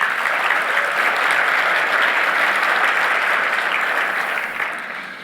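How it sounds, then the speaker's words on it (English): Loud, steady applause from a conference audience at a software company's opening keynote, sustained for several seconds before tapering off near the end, with no talking over it. "So Brian, huge applause"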